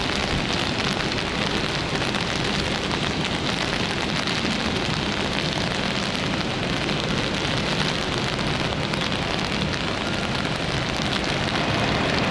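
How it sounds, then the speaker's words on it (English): Steady, even rain pours down without pause at Tampa International Airport during a storm, a dense wash of drops filling the whole stretch with no voices. "Just a steady rain."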